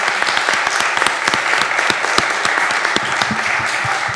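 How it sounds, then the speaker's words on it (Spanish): Sustained applause from a crowd at a book presentation during a book fair, steady dense clapping filling the room without a break. "Les pido un aplauso para Feliciano."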